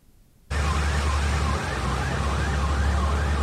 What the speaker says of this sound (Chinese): 警报器响个不停，